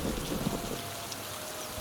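Heavy rain in a cartoon, a steady, loud wash of falling water that fills the whole short stretch without any voices.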